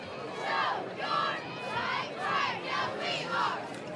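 Crowd roaring and cheering at a high school football game between Leo and East Noble, rising in repeated loud swells of whoops and shouts with no talk.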